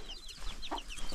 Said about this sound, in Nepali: कुखुराहरू रहेछ